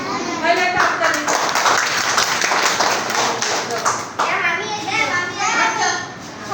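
Third-grade schoolchildren clap together in a classroom, a dense patter of many small hands mixed with lively children's voices and chatter throughout.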